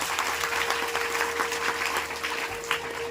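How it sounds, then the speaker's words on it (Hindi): Audience applause at a Ram Katha gathering: a dense, sustained crowd clapping that fills the whole stretch at even loudness, with a faint steady hum underneath and no voices. "आप सब एक बार ताली का उद्बोधन अवश्य करें"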